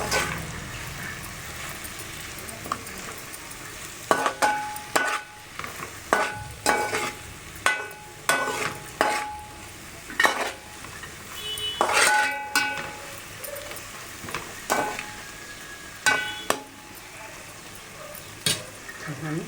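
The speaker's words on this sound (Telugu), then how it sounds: "లైట్గా హై ఫ్లేమ్లో పెట్టుకొని కాసేపు వేయించుకుందాం." Gongura chicken curry frying in a pan on high flame gives a continuous soft sizzle, punctuated by repeated sharp scrapes and knocks of a spoon stirring against the pan, with occasional talk.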